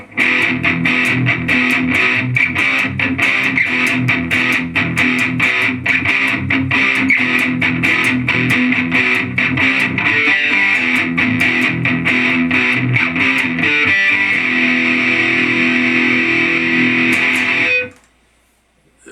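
Crunchy distorted electric guitar riff through a Joyo preamp modeler set to a Marshall JCM 900 model, loud and close, chugging and strumming steadily for a long stretch before cutting off abruptly.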